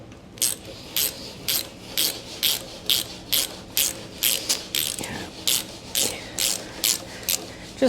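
Ratchet wrench tightening a bolt on a 1969 Honda CD90Z motorcycle, about fourteen quick evenly spaced clicking bursts in a steady rhythm, close and clear with no talking.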